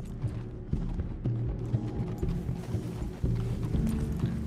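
Horse hooves clip-clopping at a slow, uneven walk in the video game Red Dead Redemption 2, a soft steady plodding of muted thuds over low background ambience.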